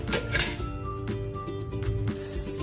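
A lid set onto a cooking pot of native chicken tinola with rice-washing water: a couple of metallic clinks followed by a ringing resonant tone that fades, fairly close and moderately quiet, with no talk.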